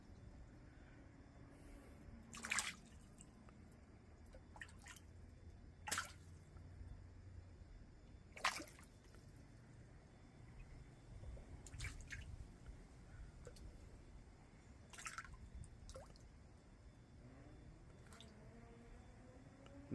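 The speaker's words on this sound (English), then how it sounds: "Those are bluegill, very aggressive feeders." Bluegill fish feeding aggressively on tomatoes in a backyard pond in late November, Texas: sharp splashes and slurping pops at the surface, a few distinct bursts spaced several seconds apart over a low steady outdoor background.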